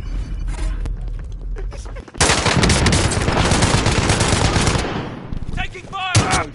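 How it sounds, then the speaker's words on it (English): Rapid automatic gunfire from a video game erupts in dense, loud bursts after a brief quieter stretch, then tapers off with a final shot, with a player's voice faintly underneath. "Taking fire!"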